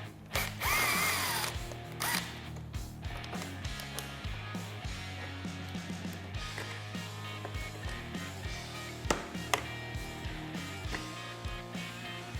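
Power driver and ratcheting tool remove T30 Torx screws and push pins on a Can-Am Maverick X3, giving bursts of whirring and clicking ratchet sounds near and clear, with a louder burst at the start and no talking.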